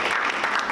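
Brief burst of audience applause at a lead-free promise conference, a steady wash of many hands clapping with no pause.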